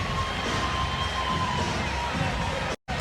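Basketball arena crowd at a Washington Mystics versus Toronto Tempo game inside Care First Arena, late in the fourth quarter, giving a steady, dense roar of cheering that cuts off abruptly near the end.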